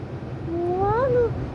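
A single drawn-out meow from a pet cat named Monu rises and then falls, heard clearly over a soft background hum with no talking.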